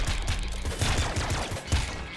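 Rapid gunfire bursts from the Nuclear Throne video game, a loud string of quick repeated shots that crackle without a break for about two seconds.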